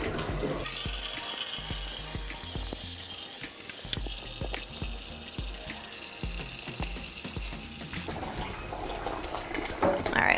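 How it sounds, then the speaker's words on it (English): Hot water pours steadily into a large tea brewer to fill it to five liters, a continuous close rushing stream with faint gurgles and clinks, with no talking. "let's go ahead and fill this whole thing up to 5 liters"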